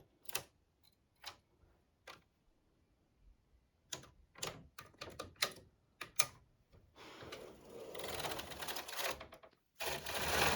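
A domestic knitting machine working a child's vest with half-cardigan rib gives sharp clicks and clacks in irregular bursts, then a longer rushing pass of the carriage, close and distinct with quiet gaps between.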